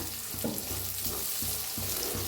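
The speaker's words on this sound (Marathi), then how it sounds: "मिक्स करून चांगलं भाजून घ्यायचं बघा" Brinjal masala frying and roasting in a pan, with a steady bright sizzle and a rhythmic low thumping of stirring strokes repeating about every half second, close and loud.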